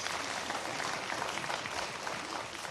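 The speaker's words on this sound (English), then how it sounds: "All right, so round of applause for Chris." Seminar audience applauding steadily throughout, a dense, even patter of many hands clapping at moderate level with no pauses.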